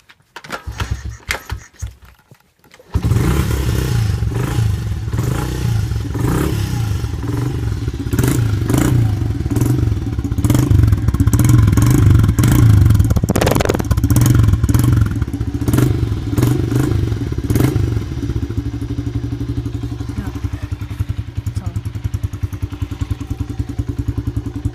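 A new dirt bike's engine catches after a few clattering kick-start strokes, then runs and revs loudly and close up in uneven surges, a continuous rough motorcycle drone that settles into idle.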